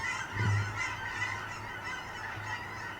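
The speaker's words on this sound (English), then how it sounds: "Listen to the geese." Geese honking steadily, a flock calling over and over at moderate distance, with a low rumble of wind or traffic underneath.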